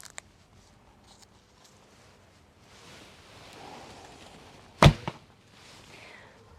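A 400-grain arrow leaves a Black Cat Korean sports bow with one sharp, loud snap and a brief follow-up thump, set against quiet outdoor wind and rustle.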